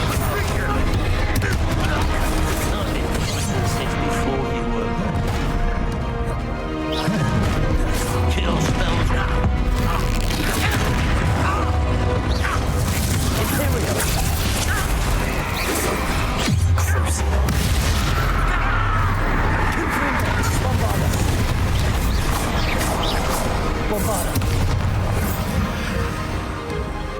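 Incendio fire spells and Bombarda blasts from the Hogwarts Legacy video game burst as repeated booms and crashes over a dense, continuous battle soundscape, loud and near throughout, with voices speaking in places.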